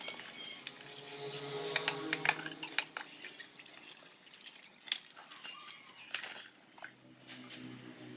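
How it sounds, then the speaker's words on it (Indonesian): Soapy water being worked over the top and terminal head of a car battery, with a close trickle, splashes and drips that come and go at a low level, with no voices. "terlebih dahulu kita bersihkan menggunakan air sabun bagian kepala dan bagian atas bodi aki mobil kita"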